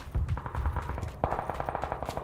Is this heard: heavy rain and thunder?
no